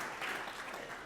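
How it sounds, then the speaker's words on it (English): Applause from an audience honoring Ken Vian, a Grand Forks city councilman, at a talk about Theodore Roosevelt's presidential library; a brief, soft wash of clapping heard at a distance. "let's give him a round of applause"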